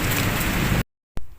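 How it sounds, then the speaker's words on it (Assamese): Heavy rain falling as a loud, dense, steady hiss that cuts off abruptly, then returns for a brief moment. "বহুত ডাঙৰ বৰষুণ দি আছে"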